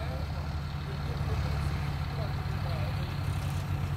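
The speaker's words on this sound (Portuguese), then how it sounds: "Olha o trator ali, ó." A tractor engine rumbles at a mechanized sugarcane harvest, a steady low drone holding throughout, with a person speaking over it.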